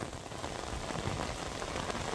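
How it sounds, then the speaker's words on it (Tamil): Heavy rain pours steadily onto a flooded road in Jaffna, a dense, even hiss of drops that stays constant throughout, fairly faint, with no voices. "நல்லா கொட்டோண்டு கொட்டுது பாருங்க கொட்டுது மழை"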